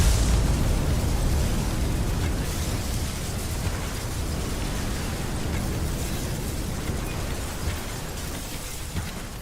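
Gunfire in a video game: a dense, continuous crackling roar of rapid shots at steady loudness, blurring into a noisy wash throughout.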